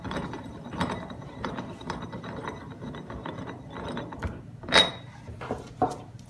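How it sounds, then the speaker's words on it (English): A nut runner spins a thin lock nut down onto a Sturmey-Archer S80 bicycle hub, giving a steady mechanical ratcheting whir close up with a few sharper metallic clicks near the end, heard alone. "The last step is to install the thin lock nut, and the nut runner will spin it down."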